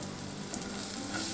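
Spices including goda masala sizzling in hot oil for a Malvani white peas usal tempering, a brief, steady, close frying hiss with faint stirring, no speech.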